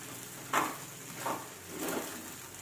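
Sabudana khichdi sizzling in a pan over a medium-low gas flame, with faint soft frying and three brief stirring scrapes, quiet and close with no talk.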